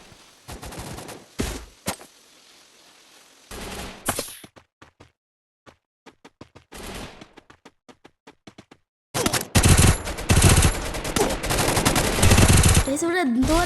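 Gunfire in the video game Free Fire: short bursts of shots, then sparse single cracks, then a loud, sustained barrage of rapid automatic fire, with some speech mixed in.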